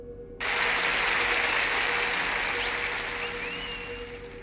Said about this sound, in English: We have to give her a round of applause.